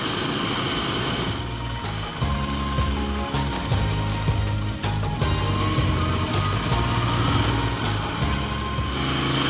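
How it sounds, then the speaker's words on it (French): Village traffic in Le Pont-de-Montvert heard from an off-road vehicle, a steady low engine drone with cars passing by, no talk. "Ça passe dans tous les sens, là, les gens, les voitures."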